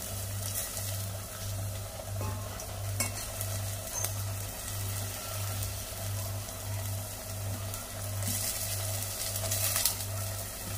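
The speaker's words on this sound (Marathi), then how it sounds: "मसाला भाजायला हवे व्यवस्थितपणाने" Masala for a fish curry frying in a pan, a continuous close sizzle broken by the scrape and clatter of stirring, with a steady low hum running underneath throughout.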